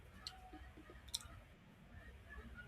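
A computer mouse clicks twice, faint and sharp, over a quiet background hiss in an otherwise still room.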